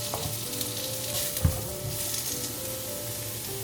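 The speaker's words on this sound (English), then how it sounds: "Then we add in the carrots." Carrots stir-fry with garlic in a hot pan, giving a steady sizzle with a single brief clatter of stirring partway through.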